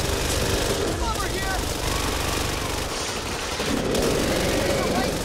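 Rapid, loud gunfire rattles on through a zombie fight in Back 4 Blood, a continuous clatter of shots with shouting voices mixed in.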